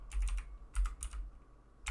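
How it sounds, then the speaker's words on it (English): Typing on a computer keyboard with the microphone placed at its front edge, heard as three close bursts of rapid, fairly loud key clicks separated by short pauses, with no talking. "my typing is so bad because my microphone is in the front of the keyboard."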